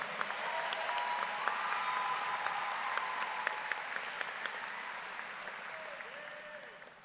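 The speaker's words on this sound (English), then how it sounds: "Let's give them both another round of applause." Sustained applause from a large crowd at a high school graduation ceremony, steady, dense clapping that holds for several seconds and then gradually tapers, with faint voices mixed in underneath.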